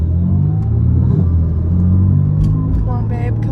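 BMW M4 launching in a drag race against a tuned GTR at a motorsport event, a loud, close engine rumble rising as it pulls away, with voices talking over it.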